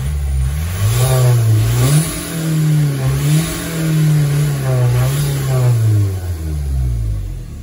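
A Talbot camper van's swapped PD130 engine revs up and down repeatedly, rising and falling in pitch, close and loud with a steady idle underneath.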